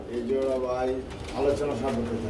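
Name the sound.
pigeon calling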